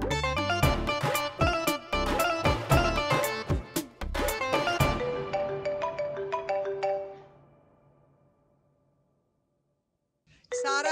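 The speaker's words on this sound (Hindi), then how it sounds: "तुम्हारा फोन आ रहा है" A phone ringtone plays a bright, repeating melody loudly, then fades to silence before a brief burst of sound returns at the end.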